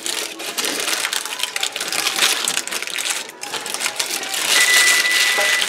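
Leftover meatloaf is wrapped up by hand, giving a continuous close crinkling and crackling of wrap that grows slightly louder toward the end.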